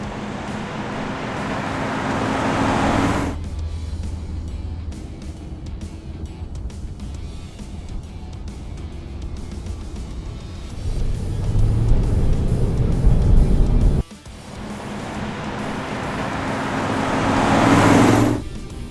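A 1970 Plymouth Superbird with a 440 engine drives along a road on a test drive, engine droning under steady road and wind noise, swelling as it accelerates and passes.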